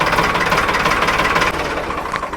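A tractor's engine runs steadily up close on a village farm, a continuous rumbling drone with knocking, throbbing pulses and no talk over it.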